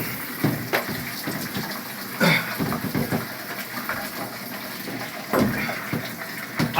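Water poured from a bucket to rinse the body, splashing and gushing in uneven bursts at close range, with running water throughout.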